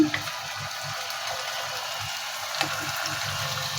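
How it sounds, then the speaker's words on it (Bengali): Pangas fish fries in hot oil in a village-style kitchen, making a steady broadband hiss with faint low knocks underneath. The sound is moderately loud and continuous. "তেলটা আমার গরম হয়ে গেছে আমি মাছ দিয়ে দিচ্ছি একটু ভেজে নিচ্ছি"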